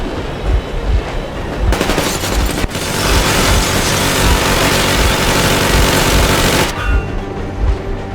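Heavy machine-gun warning fire in the video game Metro Exodus during a train chase, a dense sustained burst of rapid shots over rumbling rail noise, loud and close, ending abruptly.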